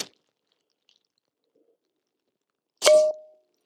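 A .32 ACP full metal jacket bullet from a Walther pistol striking a cast iron skillet gives one sharp metallic clang with a brief ringing tail, heard alone after near silence.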